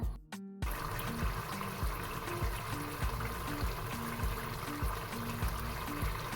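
Water pours steadily into a cooking pot to be heated for rice, a continuous splashing flow with faint regular knocking underneath, no voices.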